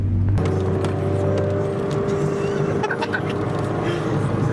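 A Nissan S14 Silvia fitted with an angle kit on its first test drive, its engine droning steadily and loud close to the microphone with a low hum throughout and faint voices underneath.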